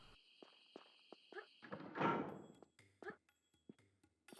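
A trapdoor opening in Tomb Raider III inside the Area 51 level, a heavy sliding scrape with a thudding rumble midway, surrounded by quiet footsteps and small clicks.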